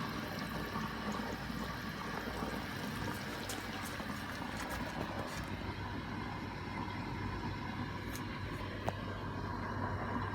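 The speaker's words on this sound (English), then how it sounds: "You can see water coming in there again," Water pours into a Bush F721QW washing machine during the second rinse of a fast wash. It makes a steady, continuous rushing sound with a low mechanical hum underneath, and nobody speaks.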